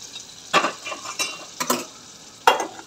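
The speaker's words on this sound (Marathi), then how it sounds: "आता याच्यात शिजवलेली मटकी टाकून घेते।" Cooked moth beans are stirred into sizzling spiced oil for misal, with steady frying hiss broken by several bursts of spoon-scraping and clinks against the pan, close and clear.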